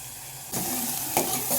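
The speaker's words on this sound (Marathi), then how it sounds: "तेल सुटेपर्यंत आपल्याला छान असं 1-2 मिनिट हे भाजून घ्यायचे" Chicken masala roasting in oil in a pan, a burst of sizzling that jumps up suddenly and keeps hissing, with a brief louder flare near the end.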